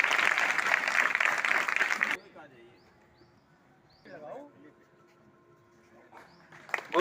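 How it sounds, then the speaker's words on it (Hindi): Applause from an audience at a school prize-giving ceremony, a dense burst of clapping lasting about two seconds that then stops, leaving faint room sounds and a few light noises. "जोरदार तालियां बजाइए।"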